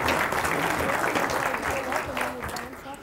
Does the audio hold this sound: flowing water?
no